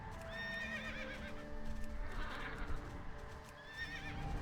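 A horse in World of Warcraft Classic whinnies loudly several times over steady clip-clop hoofbeats, the neighs returning near the start and again at the end against a busy game backdrop.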